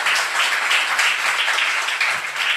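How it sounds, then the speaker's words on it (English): A large audience claps and cheers steadily at a live event, a dense, continuous wash of applause heard from within the crowd, loud and unbroken for the whole stretch. "give yourself a round of applause"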